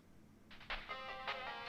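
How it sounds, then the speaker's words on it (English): A phone in the visual novel Steins;Gate rings with a short synthesized melodic ringtone, quiet tonal chirps starting after a brief silence and repeating in bursts over a low background hum. "Wait, is that my phone ringing?"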